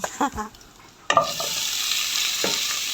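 Garlic sautés in a pan: a few soft knocks, then a sharp hiss as it hits the hot oil, settling into a continuous close sizzle with one more clatter of stirring.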